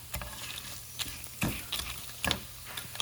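Tortillas soaked in hot oil in a pan for Mexican chilaquiles, with two eggs added: a steady low sizzle and crackle with a few sharp spits and pops, close and fairly quiet, no talking.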